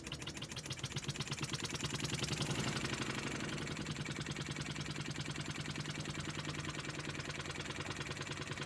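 A homemade oscillating steam engine runs on compressed air, chuffing in a fast, even rhythm of close clicks that swells briefly in loudness, then continues steady.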